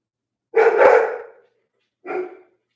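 Two barks from dogs, a loud close bark followed by a shorter one after a brief pause, with silence around them.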